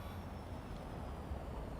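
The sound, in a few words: Porsche Taycan Turbo GT quiet in-car sound, Real Racing 3 video game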